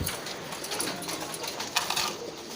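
Kept pigeons give soft, throaty coos close by during feeding, amid a hissy, busy background.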